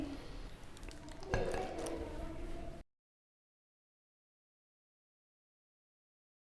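Steamed beef being spooned from a pot onto a serving dish, with soft squishing and light clinks of utensil against dishware for a few seconds before it falls silent.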